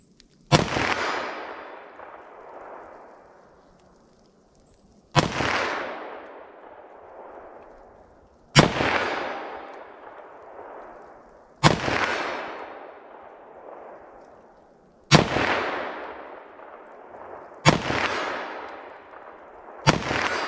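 Seven sharp, loud .357 SIG pistol shots from Sellier & Bellot ammunition, fired one at a time every few seconds, each crack followed by a ringing echo that fades before the next.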